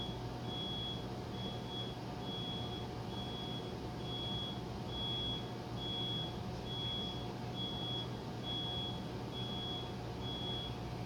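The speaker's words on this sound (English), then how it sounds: "Do you guys hear that beeping?" A steady electronic beep repeats at an even pace through the whole stretch, like an alarm or reversing signal, moderately loud over a constant low hum and background noise indoors.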